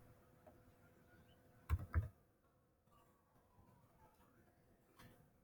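Two quick, sharp key clicks land close together on a computer keyboard as a number is typed, then faint room quiet follows.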